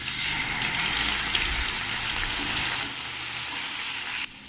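Masala for an egg curry fries in a pan, giving a steady, even hiss of sizzling oil that holds at moderate loudness before dropping off abruptly near the end.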